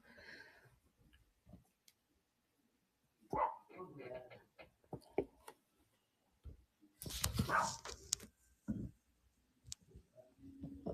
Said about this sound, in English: I apologize if you can hear my dog.